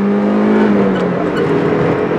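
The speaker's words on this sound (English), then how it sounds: "Don't you enjoy the pleasure of the acceleration?" A car's engine pulls hard under acceleration as it merges onto an interstate, heard as a loud, steady, rising drone with a strong low hum and road roar throughout, with no voices.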